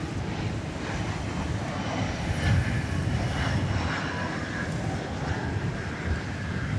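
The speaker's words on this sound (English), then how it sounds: "We have a wide body alert here for American Flight 2206 to Miami" Wide-body American Airlines jet on flight 2206 to Miami at DFW Airport, its engines a steady, broad roar that swells slightly midway and holds loud throughout, with wind buffeting the microphone.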